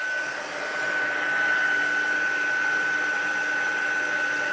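Heat tool blowing hot air to melt heat and stick powder on a Christmas papercraft project, a loud, steady whooshing drone with a constant high whine, held close to the microphone throughout.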